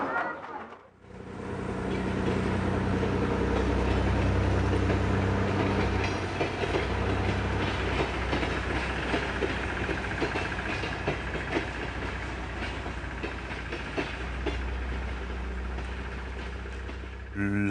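A Mont Blanc tramway rack railway train runs steadily throughout, a loud continuous rumble with engine drone and some rail clatter, close by and sustained after a brief quiet start.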